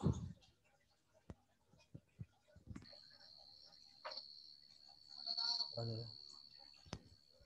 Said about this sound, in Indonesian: Tuh enak amat itu suasananya ada suara jangkrik begini.